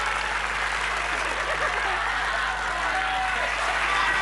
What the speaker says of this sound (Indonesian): Tepuk tangan Pak Mas Mada.